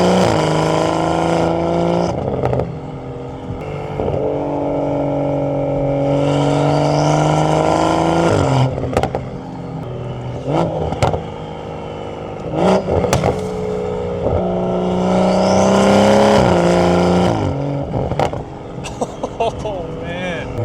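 A modified daily-driven car engine revs hard in long rising and falling sweeps, loud and close, broken by short gaps and sharp pops, with a person talking over parts of it.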